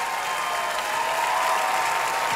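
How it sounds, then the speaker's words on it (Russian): Wild applause from a theatre audience, loud and dense, a steady unbroken roar of many hands clapping with a few faint cheers mixed in. "сумасшедшие аплодисменты!"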